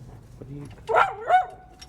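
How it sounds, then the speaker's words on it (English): A dog gives a couple of loud, close barks and whining yelps over a low background rumble in a garage where a 1970 Plymouth Cuda 440 Six Pack is being parted out. "The dog is very, very loud"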